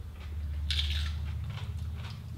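A crunchy rocoto red chilli pepper is bitten into once, giving a short, close crisp crunch over low background hum, followed by faint chewing; no one speaks.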